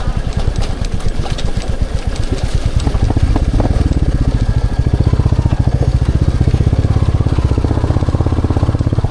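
A Royal Enfield Classic 350 motorcycle rides over a rough road with a loud, steady, rapid thumping exhaust beat close by. Faint clatter sits under the engine, and there is no talking.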